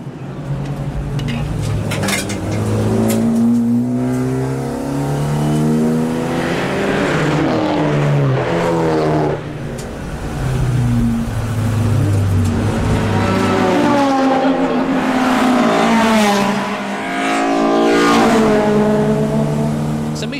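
A race car on a warm-up lap at the Nurburgring roars steadily for the whole stretch, its engine note rising and falling through the gears, loud and continuous with no talk over it.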